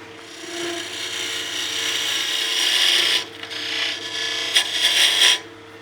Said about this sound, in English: let me just peel cut those lines off